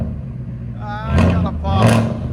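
Ford F-250 with the 6.8L V8 and Carven R-Series exhaust revving in two swells, a deep roaring exhaust rising and falling close to the microphone over a steady idle rumble.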